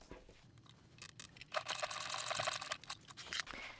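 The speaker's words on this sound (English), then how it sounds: "we're going to baste that within the seam allowance" A sewing machine bastes a bag flap within the seam allowance: faint, fast mechanical stitching chatter that starts after a quiet moment and runs steadily, with a brief pause near the end.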